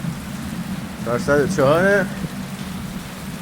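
Rain falling outdoors beside a barbecue grill, a soft steady patter and hiss running throughout, with someone speaking briefly over it in the middle.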